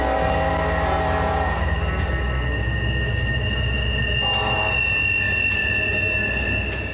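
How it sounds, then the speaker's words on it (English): A train passes close by with steady loud rumble and high squealing wheels on the rails, sustained throughout with brief metallic screeches, no talking. "There's your train coming."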